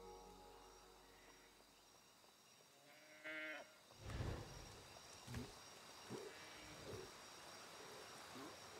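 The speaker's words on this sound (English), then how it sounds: "think I'm hearing sheep." A few sheep bleats in the video game Ancestors: The Humankind Odyssey, some from a distance, over a quiet ambient background with faint insect chirping; the calls come intermittently.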